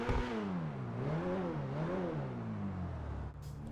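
Engine of a Grotti Itali RSX car in GTA 5 Online, a steady close whirring drone that rises and falls in pitch as it revs and eases over a few seconds, alone without talk.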